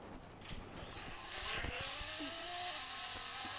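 A BMW driven in a Roblox car game, its engine droning steadily and rising in pitch as it speeds up, with brief tire squeals, alone and at moderate level.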